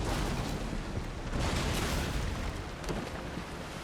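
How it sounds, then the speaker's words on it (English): Cannon fire rumbles through a naval battle in a strategy video game, a dense, continuous wash of distant booms and bursts swelling and fading without a clear single shot and without talk. "The amount of cannon shots flying around all over the place."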